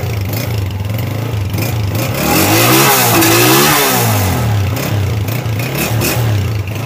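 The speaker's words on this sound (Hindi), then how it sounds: "माशाल्लाह कमाल है साउंड यार इस बाइक का।" A 2002 Honda 125 motorcycle engine idles with a throaty putter, then is revved up and down through a rising and falling wail before settling back to idle, loud and close.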